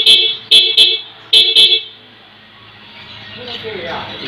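A stock car horn sounds in five loud, close honks, two short blasts, a pause, then three more, followed by quiet ambience as a voice begins speaking.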